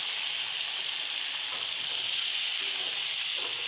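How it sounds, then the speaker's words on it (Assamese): Cumin powder and chili powder fry in oil, a steady hissing sizzle that stays even and moderately loud throughout with faint stirring touches. "অলপমান জিৰা গুড়ি এইখিনি এতিয়া অকণমান ভাজি লওঁ"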